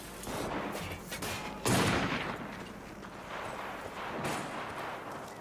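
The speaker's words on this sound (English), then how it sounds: "Firing at close range!" Gunfire in the Cyberpunk 2077 video game, a close-range firefight with a loud burst of shots near the two-second mark and another around four seconds, over a steady wash of battle noise.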